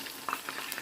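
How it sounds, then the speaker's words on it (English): Turkey wings frying in oil over the lowest gas flame, a soft, steady sizzle with a few brief crackles and pops, close and fairly quiet, with no voices. "We are still frying it."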